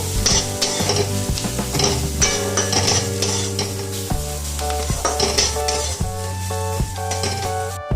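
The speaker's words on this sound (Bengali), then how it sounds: "আমি এর মধ্যে দিয়ে দেবো ঠেচা মশলা দিয়ে সব কিছু একসাথে একটু মিশিয়ে নেবো" Paneer with thecha masala being stirred in a buttered pan, giving a sizzle with regular scraping and clinking strokes, under steady background music.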